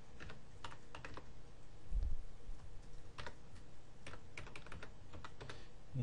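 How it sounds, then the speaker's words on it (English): Keys clatter on a computer keyboard as a username and password are typed, a steady run of close, quick clicks over a low background hum. "So what you do is type in your username and password."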